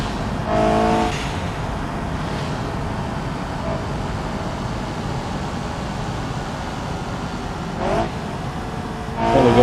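A turbocharged car engine in the BeamNG driving game runs steadily with road and traffic-like noise, rising briefly near the start and again toward the end as it revs; no one talks.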